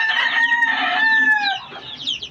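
A hen on a small poultry farm gives a loud, close drawn-out cluck, nearly a crow, then trails off into softer clucks.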